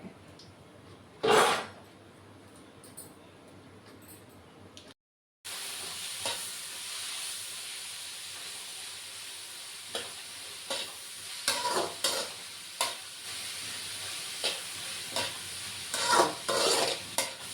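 Food is stir-fried in a pan with coconut oil, giving a steady sizzle under repeated scraping and stirring strokes from a spatula. The strokes come in irregular bursts, close and clear, with a sharp clatter near the start and no talk.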